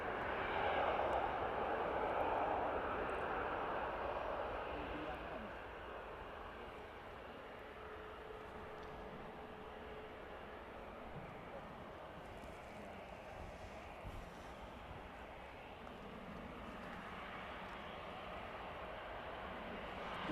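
A Eurowings airliner at Manchester Airport gives a steady, broad engine rumble, louder at first and then settling into a constant, moderately distant roar.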